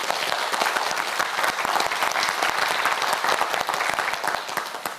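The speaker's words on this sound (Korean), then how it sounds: "신부경 학생에게 응원의 박수 부탁드립니다." A studio audience on the YTN Science quiz show QUIZ 킹왕짱 claps steadily for a student contestant. The applause is dense, with sharp individual claps, fairly loud, and fades slightly at the end.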